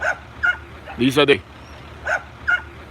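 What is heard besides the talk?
dog yipping after rescue from mud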